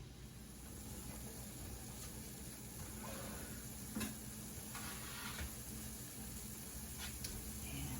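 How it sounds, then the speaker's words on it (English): Hamburger meat cooking in a pan gives a steady, moderately faint sizzle, with a few brief stirring scrapes and clicks rising above it. "Gonna let this set a minute while I finish cooking up the hamburger."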